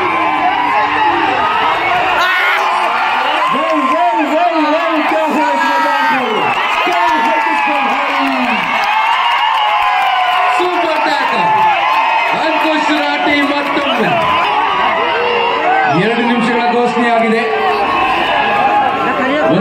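A large crowd roars and cheers continuously at a kabaddi match in Nippani, with whoops and shouts rising and falling across the din and voices of commentators mixed in.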